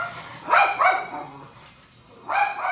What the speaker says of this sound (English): My dog likes to bark a lot